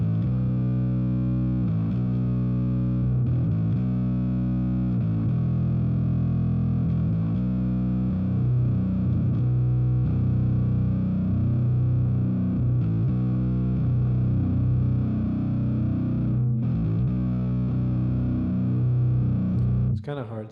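Billy Sheehan 30th Anniversary Attitude bass played through an amp's jump channel for distortion, producing a thick, gritty, sustained low growl with continuous notes for about twenty seconds before cutting off.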